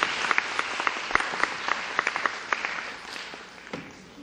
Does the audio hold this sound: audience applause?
yes